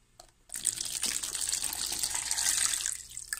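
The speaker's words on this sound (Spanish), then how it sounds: "Voy a poner el agua caliente" Hot water poured into a container to make three-flavour gelatin, starting abruptly after a brief quiet moment and running as a steady splashing stream close by.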